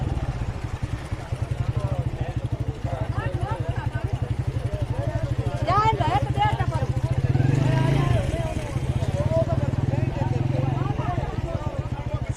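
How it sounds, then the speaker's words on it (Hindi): A motorcycle idles and rumbles steadily through floodwater near the swollen Satluj river, its engine note surging slightly midway, with a voice talking over it. "बाइक अभी हमारी पानी में आगे से थोड़ा सा राउंड लगा के आते हैं"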